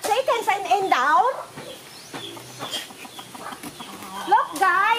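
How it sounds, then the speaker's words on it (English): A rooster and hens cluck in a rural provincial yard near a nipa hut, bursts of rising, warbling clucks at the start and end with a quieter stretch between, close and fairly loud. "a chicken rooster"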